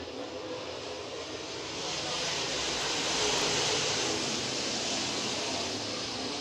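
Race cars roar around the Red River Coop Speedway during a Thursday night event, a dense, continuous engine drone that swells louder after the first two seconds as the pack gets going.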